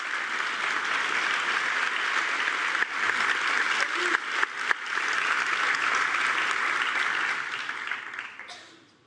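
An audience applauds at a comic-book panel on Batman, with steady dense clapping held for about eight seconds before fading out.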